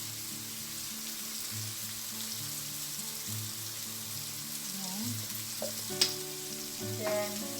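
Ground pork sizzles steadily in a pan, a constant close frying hiss with a faint low hum beneath and a couple of small utensil clicks near the end.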